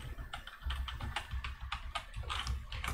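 Fingers tap out code on a computer keyboard in a quick, uneven patter of soft clicks and heavier key strikes, close up and fairly quiet, with no voices.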